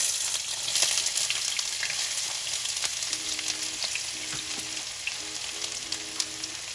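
Diced celery frying in a hot pan for pineapple chicken, giving a steady, close, loud sizzle with crackling pops throughout and a faint low tonal hum in the background.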